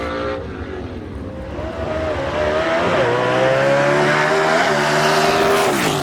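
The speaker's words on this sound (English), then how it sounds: "listen to that car go through the traps right there" A drag racing car blasts through the timing traps at Knoxville Dragway, a loud engine roar that climbs in pitch and sustains, close and dominant.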